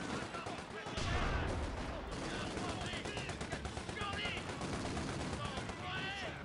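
Rapid gunfire and machine-gun bursts in the World War II strategy game Company of Heroes 2, dense overlapping shots over constant battle noise, with game voices talking throughout.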